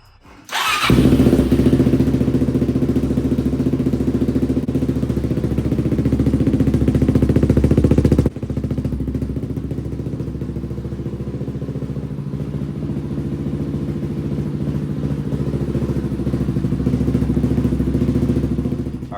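A Suzuki DRZ400 motorcycle engine starts and idles to warm up, a loud, steady close thumping idle that settles slightly lower partway through and runs on alone.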